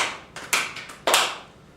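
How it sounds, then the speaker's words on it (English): A classroom audience claps hands together in a few sharp, close bursts of about three claps, with no talking. "If you agree, just clap 3 times"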